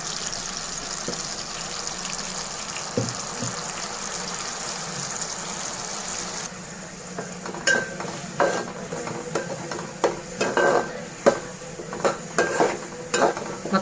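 Onion paste with tomato and masala fries in hot oil for a fish curry, making a steady sizzle. Partway through, sharp spoon scrapes and clinks against the pan break in as the mixture is stirred.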